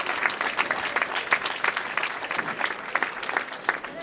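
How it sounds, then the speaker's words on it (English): Applause from a crowd at the U.S. Amateur Championships stepladder finals, steady clapping at moderate distance continuing for several seconds. "how about a round of applause for Mr. Cameron Doyle"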